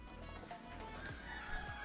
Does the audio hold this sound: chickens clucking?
yes